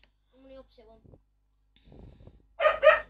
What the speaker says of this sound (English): Dog, be quiet. I'm asking you nicely. Will you be quiet?